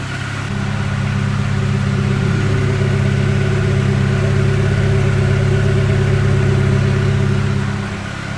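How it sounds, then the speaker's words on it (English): A Mk3 Volkswagen Jetta engine with a newly installed air intake idles steadily with a low, even rumble, loud and close, running without pause. "It's idling just fine."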